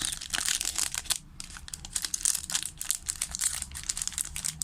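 A 2014–2015 Süper Lig sticker pack wrapper is crinkled and torn open close up, a busy run of sharp crackling and ripping bursts with one brief pause, no voices.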